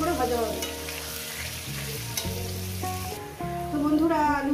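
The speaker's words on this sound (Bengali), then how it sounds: "এবার সুন্দর করে মিনিমাম 7-8 মিনিট ধরে আমি আলুটাকে ভেজে নেব।" Potatoes fry and are stirred in a pan for a Bengali katla fish curry, a steady close sizzle with repeated scraping strokes and a background tone throughout.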